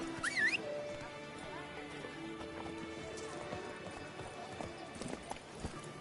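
Horse hooves clip-clop at a steady trotting pace in The Witcher 3: Blood and Wine, with a brief whinny at the start and faint background ambience and occasional voices beneath the even rhythmic steps.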